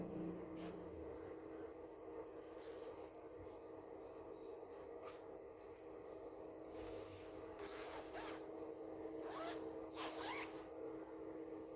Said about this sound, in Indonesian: Tes resleting.